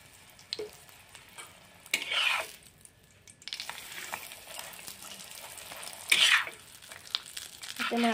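Egg paratha fries in mustard oil on a tawa, a quiet crackling sizzle punctuated by several sharper bursts as it is flipped and pressed, with a voice talking now and then.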